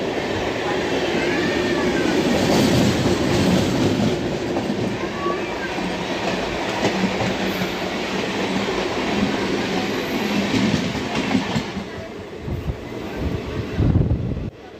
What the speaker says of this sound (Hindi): और ये है दोस्तों पठानकोट दिल्ली इंटरसिटी।